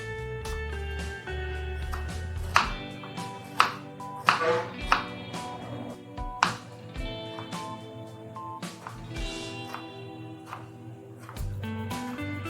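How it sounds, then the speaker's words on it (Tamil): Tomatoes and onions being cut with a knife for a gravy give sparse, quiet knocks against a board, spaced irregularly over a steady musical background. "தக்காளியை நம்ம கட் பண்ணிக்கலாம்."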